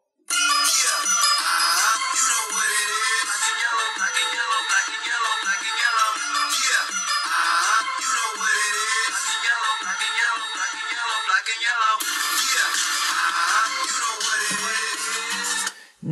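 Hip hop track played back through a smartphone's built-in speaker in a comparison of HTC One M9, iPhone 6, Galaxy S6 Edge and Xperia Z3 handsets, steady and loud with a thin, tinny tone throughout.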